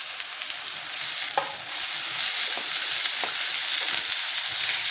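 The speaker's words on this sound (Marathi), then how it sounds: "तेल चांगलं तापले, आता त्याच्यामध्ये आपण कांदा चांगला परतून घेऊया।" Onion pieces frying in well-heated oil for a dry fish dish, a steady close sizzle with occasional stirring scrapes and no voices.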